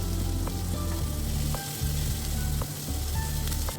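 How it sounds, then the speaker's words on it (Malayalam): For a Kerala-style egg curry, a mixture fries and is stirred in a pan until golden brown, giving a loud, dense, continuous sizzle. Steady musical tones play underneath, and no one talks. "നന്നായി ഇളക്കി ഒരു ഗോൾഡൻ ബ്രൗൺ നിറമാകുന്നത് വരെ ഇളക്കി കൊടുക്കുക"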